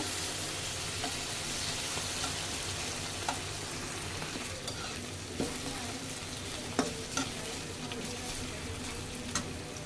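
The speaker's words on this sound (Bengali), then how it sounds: "তেলের মধ্যে আলুটা দিয়ে দিচ্ছি" Potatoes frying in hot oil for a bitter gourd dish, a close, steady sizzle and bubbling crackle with a few scattered pops and light clicks.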